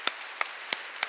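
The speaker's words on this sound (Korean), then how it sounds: "박수 좀 세게 좀 치세요." A church congregation claps in unison in four sharp, evenly spaced beats, each crisp and distinct against a quiet room hush.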